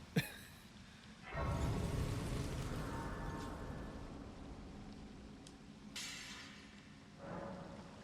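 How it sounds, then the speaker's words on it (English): A magical bubble shattering on reset in the fantasy game Elden Ring, a sharp crack followed by a brittle, crashing burst and fading rumble, with smaller shattering flares trailing after. "Because the bubble shatters when you reset it."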